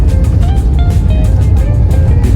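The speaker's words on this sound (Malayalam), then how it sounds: "വിമാനം എയറോഡൈനാമിക്സ് ഉപയോഗിച്ച് ബ്രേക്ക് ചെയ്യുകയാണ്." An airliner brakes on the runway just after landing at Singapore Changi, with a loud, steady low rumble and engine roar heard from inside the cabin.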